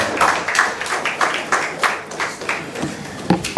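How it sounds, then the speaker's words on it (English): An audience applauds Mr. Adejumade with a burst of scattered clapping that stays fairly loud, then thins into a few separate claps near the end. "A round of applause for Mr. Adejumade."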